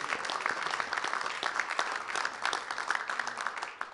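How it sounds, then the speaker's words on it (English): A crowded room at a House Republicans event claps steadily and loudly, dense applause sustained throughout with no talking. "Let's give a round of applause for that."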